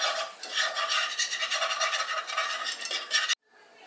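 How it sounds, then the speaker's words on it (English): A whisk stirs flour into melted butter in a pan over medium heat, a close, rapid rhythmic scraping and swishing for a few seconds that stops abruptly. "I'm going to whisk in about 2 tablespoons of flour."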